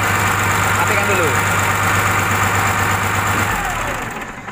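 Car engine idling during an alternator charging test, a steady close rumble with a low hum that cuts out near the end as the engine is switched off, with voices talking over it.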